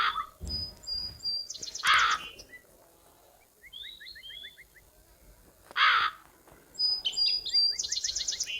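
Harsh crow caws from the Meena 2 video game ring out in two loud bursts several seconds apart, separated by quieter chirping game effects and faint background sound.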